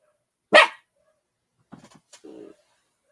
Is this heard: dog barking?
yes